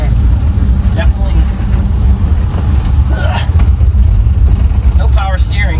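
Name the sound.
Volkswagen with Porsche engine swap driving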